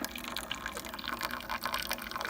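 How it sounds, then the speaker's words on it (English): Water trickling and dripping through a Keurig coffee maker being repaired for water brewing back into its tank, a soft continuous splashing flow with small irregular drips, fairly close and quiet, with no talk. "I got drippage"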